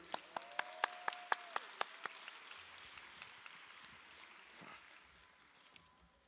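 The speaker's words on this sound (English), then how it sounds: "Let's give a round of applause for Mr. Dry Karan." A graduation audience applauds as a speaker is welcomed to the stage: a run of about a dozen sharp, evenly spaced claps comes first, then a quieter spread of scattered clapping that fades away.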